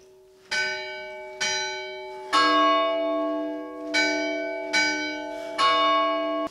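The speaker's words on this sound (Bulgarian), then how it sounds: "от тук с едно придърпване чуваме камбания звън" A church bell at a 150-year-old temple, rung by pulling a rope through a pulley system: six loud, ringing strikes at uneven intervals, each with a long resonant decay overlapping the next.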